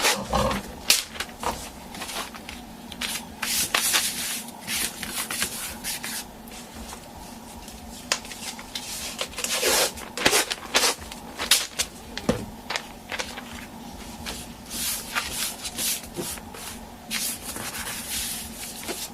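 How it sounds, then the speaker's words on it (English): Masking tape being torn and pressed down around airbrush artwork, with irregular crackling rips and rustling bursts close up, scattered in uneven clusters with brief pauses between them. "I'm going to take some of this masking and cover up the rest of the black"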